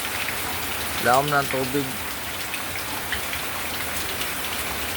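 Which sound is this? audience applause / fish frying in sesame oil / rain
rain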